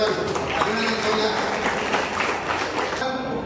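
A hall audience at an Indian Medical Association installation and felicitation ceremony gives honoured award winners loud, dense, sustained applause that continues evenly, thinning slightly at the very end.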